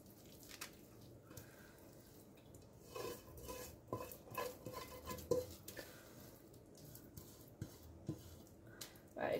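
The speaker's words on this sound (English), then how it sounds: "once all the mixture's out of the pan, I just tend to flatten it all down like this" A spoon presses and smooths sticky flapjack mixture down in a pan, giving faint, scattered scrapes and soft taps against the metal over a quiet background.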